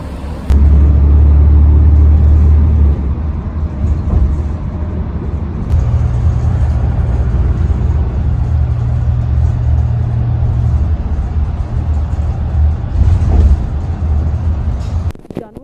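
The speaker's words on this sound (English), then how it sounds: "It was, in fact, my bus." A city bus sits idling at a stop, its engine a loud, steady low rumble that shifts in pitch partway through, with a sharp clunk at the start and another at the end.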